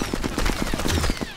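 Rapid machine gun fire in Sniper Elite 4 rattles off in a fast, even burst of closely spaced shots, loud and near.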